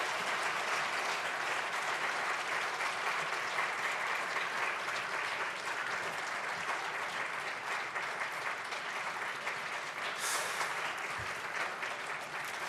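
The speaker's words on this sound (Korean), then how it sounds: "이제 자리로 돌아가실 때까지 우리 박수로 축복해 주시기를 바랍니다." Congregation applauding at a Christmas worship service in a church, a steady wash of clapping from many hands that carries on unbroken and fairly loud for the whole stretch, with no voices standing out above it.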